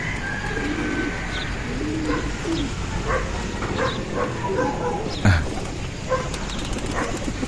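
Pigeons cooing, soft repeated low coos from close by, with faint background bird calls and a short louder bump partway through.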